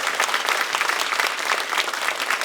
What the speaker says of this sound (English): So please join me in giving all of our generous sponsors a round of applause.